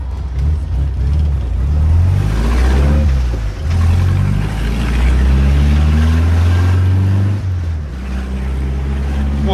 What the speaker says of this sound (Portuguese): O motor do Fusca ainda tá frio.